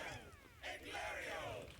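Hobbit characters in a Lord of the Rings video game let out a short burst of hailing and cheering, a crowd-like battle cry of overlapping voices at moderate level.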